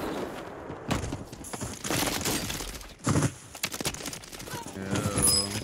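An HMR rifle with its barrel removed fires in rapid strings of sharp shots in Warzone, loud and close with brief gaps between bursts, and someone talks over the shooting.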